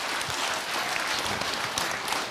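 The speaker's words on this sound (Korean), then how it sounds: "박수. 어쨌거나 간에 박수다." Audience applause at a Buddhist monk's Q&A talk show, a dense steady clapping from a crowd that fills the whole stretch at even loudness with no voices over it.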